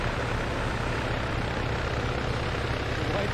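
Helicopter in the military game Arma 3, a loud, continuous rotor and engine drone with a low rhythmic thump, sustained and close overhead throughout.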